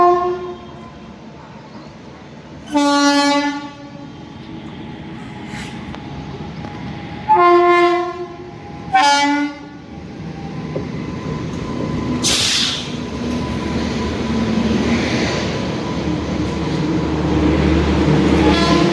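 A passenger train heading from Patan to Ramdevra rumbles steadily along, heard from on board, its horn blaring loudly in three separate blasts early on, followed by a rising hiss and continued rolling noise.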